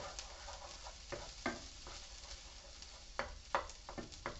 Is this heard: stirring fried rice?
yes